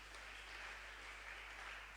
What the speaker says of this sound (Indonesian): Kita beri tepuk tangan buat Yesus yang dahsyat.